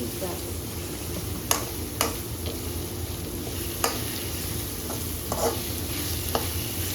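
Ginger and garlic sauté in a pan for chicken, a steady crackling sizzle with occasional sharp clicks and scrapes of stirring throughout.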